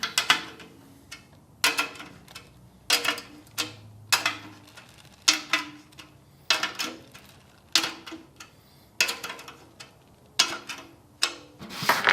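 Drum key turning tension rods on a Samy Morales limited edition 8x14 steel snare, a run of sharp metallic clicks and ratcheting ticks in short separate bursts with quiet gaps between.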